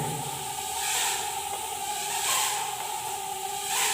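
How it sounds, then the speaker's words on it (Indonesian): A small micro drone on a toothpick frame buzzes and whines steadily in flight indoors, its high hiss swelling and fading slightly as it moves; no talking. "Kita coba tes terbang dulu drone-nya"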